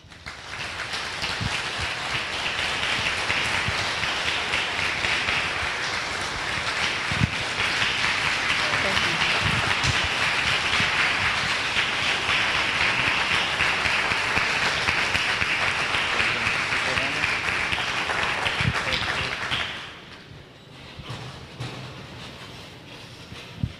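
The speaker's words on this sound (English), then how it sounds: "thank you very much for that much appreciated applause" Sustained, dense applause from a lecture audience welcoming a speaker onto the stage, loud and steady for about twenty seconds before fading abruptly into room quiet.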